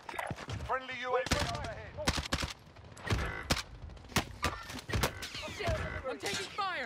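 Gunfire in Call of Duty: Modern Warfare, with rapid bursts of sharp shots cracking in clusters across a multiplayer match, mixed with voices talking over the action.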